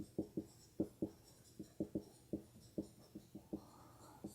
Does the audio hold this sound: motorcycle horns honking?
no